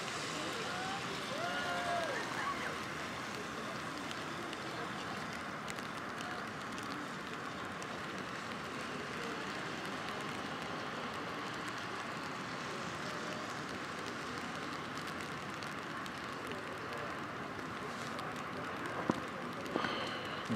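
Steady rain falls outdoors at a protest blockade outside a weapons manufacturer in Plymouth, Minnesota, a constant broadband patter that lasts throughout with faint distant noises and a few brief knocks near the end.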